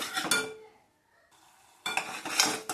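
A spoon stirs masala frying in oil in a pot for a bhaji curry, giving scraping, clinking strokes in two bursts separated by a quiet gap.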